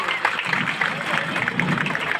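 Clapping from an audience at a Mother's Day celebration at a children's school, honouring a winning girl, a dense patter of hands mixed with voices and crowd murmur.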